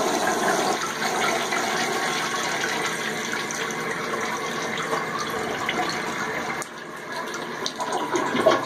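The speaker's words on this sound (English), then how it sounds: "And we'll go ahead and flush that as well." An American Standard toilet in a hotel bathroom flushes loudly up close, a sustained rush and gurgle of water that drops briefly before refilling continues.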